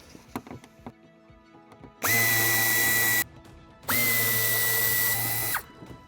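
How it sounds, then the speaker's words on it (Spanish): Power tool removing screws from a Fiat 500X, two loud, close bursts of high-pitched whine, each about one and a half seconds long with a rising start, separated by a short quiet gap. "ahora quitaremos los tornillos."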